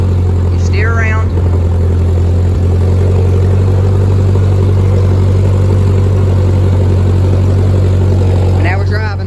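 A 1946 Ford 2N tractor engine running steadily in first gear while driving, a loud low drone with a strong even hum, with someone talking over it.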